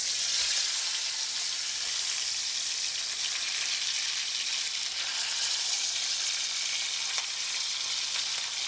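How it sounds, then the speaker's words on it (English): A leg of lamb roast sears in hot vegetable oil, giving a loud, steady, dense sizzle that holds evenly throughout with no voices. "I want to sear the outside of this roast"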